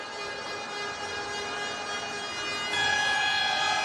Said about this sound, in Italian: Suona la sirena, finisce qua